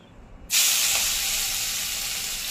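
Crushed green chili thecha hits hot oil for tempering, setting off a sudden loud, steady sizzle that begins about half a second in after near silence and holds strongly to the end, with no talk.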